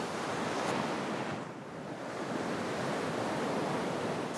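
Ocean surf washes steadily against the shore at Samcheok on the Korean coast, a dense, continuous roar of breaking water with a slight swell midway and a hint of wind, no voices.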